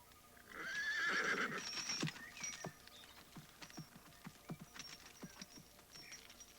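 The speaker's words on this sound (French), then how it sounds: "Il compose 2 attelages de chevaux, de solides chevaux de labour, et il les pousse à tirer en sens opposé." Sturdy draft plough horses strain while pulling in opposite directions; one loud close whinny rises early, followed by scattered hoof clops and light patter in an otherwise quiet setting.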